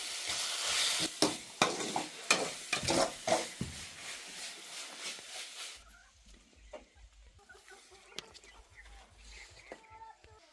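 Food sizzles and fries in a pan in a village kitchen, with sharp stirring clatters in the first half giving way to a quieter, fainter sizzle.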